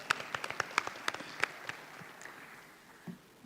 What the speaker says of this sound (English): Let's give her a very big round of applause.